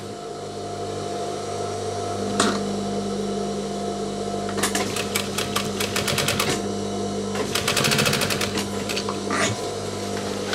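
An industrial sewing machine stitches the cuff of a denim jacket in a tailoring workshop, running in loud rapid bursts of needle chatter with short pauses between runs over a steady motor hum.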